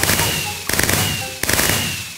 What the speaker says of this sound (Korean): 폭죽이 막 터지고요